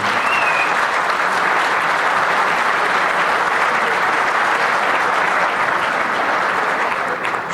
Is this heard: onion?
no